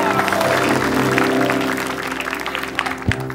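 Audience applause at a TV show taping fills the moment with a dense, steady wash of clapping over a constant tonal background, thinning out in the last second.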